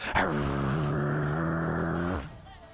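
A voice imitates a Blink Dog's growl during a fantasy tabletop roleplaying game: one loud, sustained, throaty rumble lasting about two seconds, close up, then cutting off sharply.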